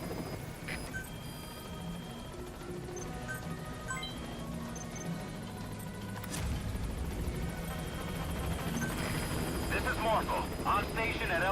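Support helicopter named Morpho approaching a landing zone in a video game, a steady rotor and engine drone that grows slightly louder toward the end, heard under game music and effects with no talk over it.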